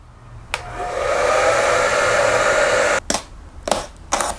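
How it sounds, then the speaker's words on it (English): A hair dryer heats the old label on a Honda EU2200i generator, blowing a steady, loud whir for about two and a half seconds before cutting off. A few sharp clicks and handling knocks follow. "To get the old label off, they recommend you first heat it with a hair dryer."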